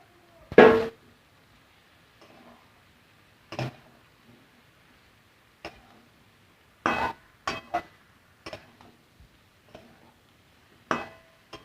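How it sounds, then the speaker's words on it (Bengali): Cauliflower and potatoes tipped into a cooking pan for a vegetarian dish, heard as a loud clattering thump followed by scattered clinks and scrapes of a utensil against the pan at irregular intervals, with no talk. "ফুলকপি আলুটা দিয়ে দিলাম।"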